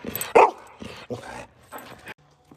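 A dog gives sharp, close barks mixed with higher whimpers and yips in short, uneven bursts, with quiet gaps between them.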